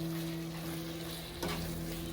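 Mutton keema curry cooks in a pan over a medium flame, giving a continuous soft sizzle over a low steady hum, with one brief stirring scrape partway through.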